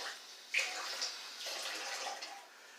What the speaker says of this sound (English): just adding a tad bit of water